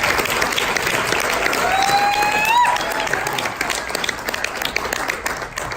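Loud, sustained applause from an audience for the sponsors at a monthly evening gathering, with a brief whistle rising through the steady clapping.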